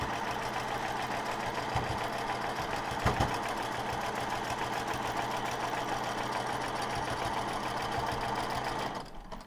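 A sewing machine runs steadily while quilting fabric, a close, continuous mechanical whir and hum with a slight knocking pulse that holds for several seconds before easing off at the end.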